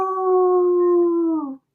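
A person imitates a wolf howl on a live call-in show, one long sustained vocal howl, loud and close, that bends downward and cuts off abruptly.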